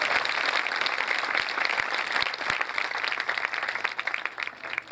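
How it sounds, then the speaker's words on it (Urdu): Loud, steady applause from a church congregation fills the whole stretch, a dense wash of many clapping hands with a few sharper claps standing out, tapering slightly at the close. "زوردار تالیاں"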